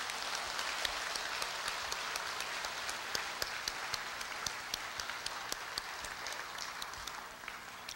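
Warm, sustained audience applause for a couple of parents at a Korea University 110th anniversary ceremony, dense steady clapping from a large hall crowd for the full length, alone with no talk.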